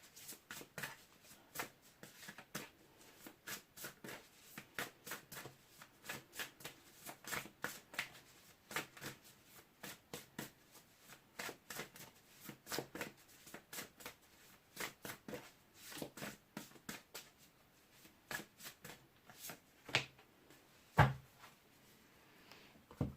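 Tarot cards are shuffled over and over, quick papery riffles and slaps in uneven bursts, close and soft, with a brief louder knock near the end.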